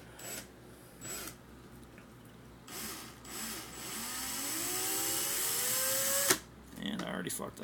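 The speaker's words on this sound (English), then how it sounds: "I'm going to take my 36 gauge, just feed it into the chuck of my drill" Cordless drill spinning to twist 36 gauge stainless steel wire for a fused Clapton coil: short bursts of whirring, then a sustained rising motor whine for a few seconds that stops abruptly, fairly quiet and close.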